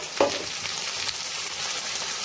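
Chopped tomatoes drop into frying onions with a quick thud, and a steady, close sizzle carries on afterward.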